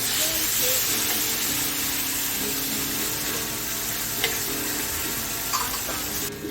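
Grass carp fish fry in a pan with rosemary and garlic, giving a continuous bright sizzle with popping and crackling, steady and close, with occasional small stirring clicks.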